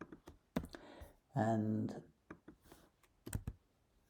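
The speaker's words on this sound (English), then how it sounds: "I'm going to start typing." Typing on a computer keyboard, with scattered sharp key clicks at an uneven pace and someone speaking briefly over them, all fairly quiet.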